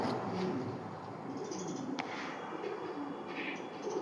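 Fancy pigeons, including Jacobin and Lahori breeds, cooing softly in a dense, noisy background, with a single brief sharp click midway.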